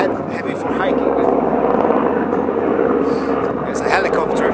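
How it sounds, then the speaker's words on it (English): A helicopter passes overhead outdoors, its steady, loud rotor drone filling the air throughout with a low throbbing rumble, while faint voices sound intermittently under the noise. "There's a helicopter which makes a bit of noise."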